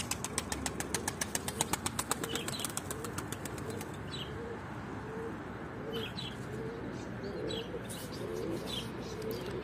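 Tumbler pigeons with wings flapping in quick rhythmic claps at first, then softer cooing and light chirps at close range against an outdoor background hum.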